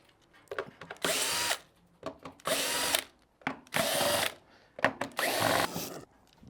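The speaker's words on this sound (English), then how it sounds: "go ahead and pop out the 6 screws on the bottom" Power drill backing six screws out of the bottom of a skateboard's rear bumper, four loud buzzing bursts of about half a second each, separated by short pauses filled with small clicks and handling noise, close up and without talk.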